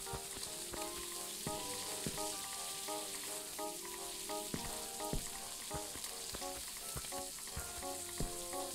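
A stove sizzling in the horror video game Stifled: a steady, quiet frying hiss that runs throughout, with faint tonal music and occasional soft clicks behind it.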